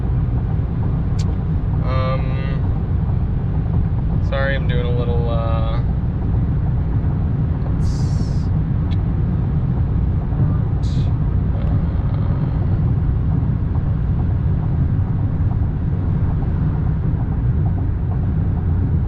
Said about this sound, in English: there's just a lot more wind noise than is normal